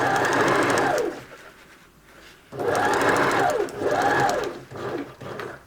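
Sewing machine stitching a 3D fabric face mask: two sustained runs of close, loud motor whirring and needle chatter, separated by a brief pause when the needle pivots at a corner, then shorter bursts.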